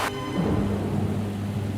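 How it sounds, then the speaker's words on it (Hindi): A storm of heavy rain with thunder: a sharp crack at the start gives way to a low, sustained rumble under a continuous wash of falling rain. "अभी बारिश रुक जाएगी"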